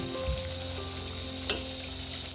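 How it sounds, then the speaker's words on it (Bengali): Pointed gourd (potol) frying in hot oil, a steady close sizzle and crackle throughout with a sharper pop midway, no voices. "এবার ভাজা হচ্ছে পটল।"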